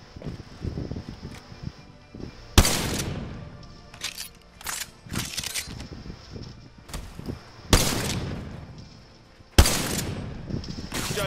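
Bursts of gunfire from the Apex Legends battle royale video game, several loud sharp volleys at irregular intervals with quieter in-game clatter and effects between them.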